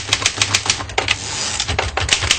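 A manual typewriter under repair clatters through a quick, uneven run of sharp key strikes and mechanical clacks, loud and close, with no voices.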